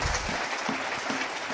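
A church congregation breaks into dense, sustained clapping and cheering, a loud wash of many hands filling the room, with a few voices rising through it.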